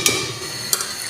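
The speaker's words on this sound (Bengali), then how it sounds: "কষা আমি হলুদ মরিচ দিয়ে ভালো করে নাড়াচাড়া দিয়ে নিলাম" A spatula stirs turmeric and chilli through spices in a pan, two quick scraping clinks over a low continuous sizzle, brief and close.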